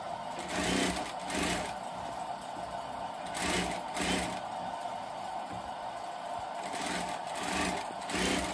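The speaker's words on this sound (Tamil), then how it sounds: "இன்னொரு கை தைக்க போறாங்க" A sewing machine stitching an umbrella panel, its fast mechanical whirring running steadily throughout with periodic louder surges as stitching speeds up, fairly close and with no talk.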